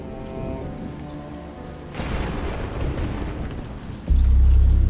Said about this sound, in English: In the third circle, freezing rain and hail fell without end upon the gluttons in putrid slush.